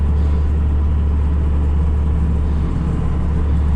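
A tractor engine runs steadily with a mower attachment that makes it vibrate and shake, giving a loud, dense low rumble that holds evenly throughout, with no talk.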